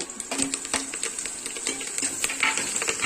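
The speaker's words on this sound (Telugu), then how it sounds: "కరివేపాకు కదా, దానికి చిట్టపడిలాడే క్వాలిటీ ఉంటుంది" Curry leaves spluttering in hot oil for a Telangana fish curry, giving close, sharp crackles and pops in irregular bursts over a steady background sizzle.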